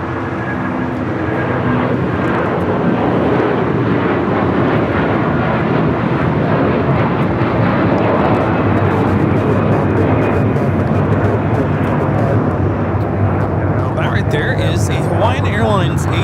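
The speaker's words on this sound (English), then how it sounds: "A330-200 taking off to a destination that is probably Honolulu" An Airbus A330-200 airliner takes off at Los Angeles International Airport, a loud, steady engine roar filling the whole stretch without letup, with a brief higher chatter near the end.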